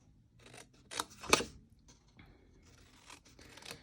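Scissors snip through a paper gift box to remove its corner squares, a few short crisp cuts with one sharp louder snip near the middle, close and alone without talk.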